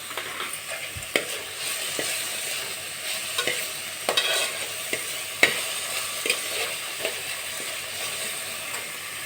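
Masala for a fish curry fries in a pan with a constant loud sizzle, broken by sharp scraping knocks of a spoon being stirred through it, no voices.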